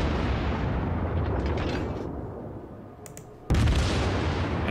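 In World of Warships, the Kongo battleship fires its two forward turrets: a heavy, rumbling roar fades, then one loud, sharp boom bursts out near the end.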